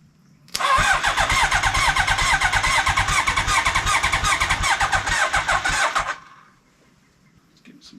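A 1980 Honda CB900 motorcycle engine, long sat unused and now fitted to a custom lawnmower trike, cranks on a jump starter in a loud, rapid, steady chugging rhythm for about five seconds before stopping abruptly.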